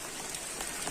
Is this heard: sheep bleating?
no